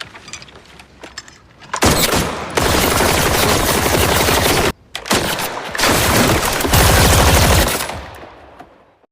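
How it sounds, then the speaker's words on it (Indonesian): Sustained bursts of automatic gunfire from a shooting practice scene in an action film, loud and dense, with two long rapid volleys separated by a brief pause and quieter scattered shots at the start and end. "Keesokan harinya, Markus mulai melatih rekan-rekannya menembak agar mereka mampu melindungi diri jika gangster datang menyerang."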